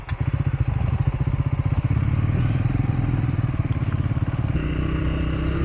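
Triumph motorcycle being ridden, its engine putting out a loud, close, throbbing rumble with a rapid even pulse and a slight change in tone near the end, no voices.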